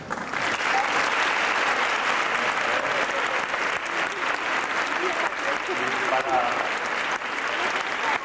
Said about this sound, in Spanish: para ellos pido ahora un fuerte aplauso